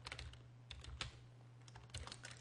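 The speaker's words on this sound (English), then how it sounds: "then we're going to type wiggle" Keys clack on a computer keyboard in quick, uneven bursts of typing, close up and fairly quiet over a faint steady hum.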